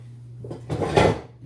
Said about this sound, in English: I'm going to need to get my very large